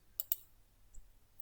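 Two quick, light mouse clicks in close succession while selecting the shuffle option in Google Forms, faint and isolated against a near-silent background.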